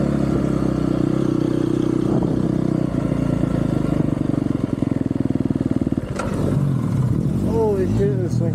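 A GasGas MC250F dirt bike runs with a loud, steady engine drone that thins out around the middle and then gives way to rattles and a brief higher whine near the end, with talking heard over it.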